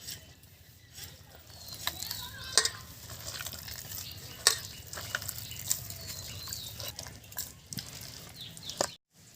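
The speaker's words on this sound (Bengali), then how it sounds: "এবার আমি 1 বাটি জল দিয়ে দেব, তারপর ভালো করে চেটকে নেব।" Wood apple (bael) pulp is squished by hand in a bowl of water: wet squelching and sloshing with soft dripping, close and fairly quiet, with a few sharper clicks from the bowl.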